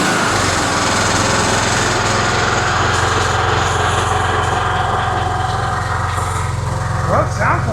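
Yard-sale Husqvarna small engine running under its own power, with a steady, loud, close buzzing drone throughout and a slight rise near the end.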